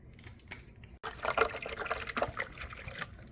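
Bottled water pours from a bottle and splashes continuously for a few seconds after a brief pause, a close, bubbling gush without talking.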